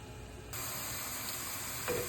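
Onions fry in a pan for a satay chicken curry, browning with a soft, steady sizzle and hiss that jumps a little louder partway through and keeps going at low volume with no talking.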